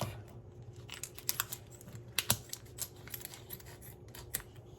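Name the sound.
scissors cutting end of pork loin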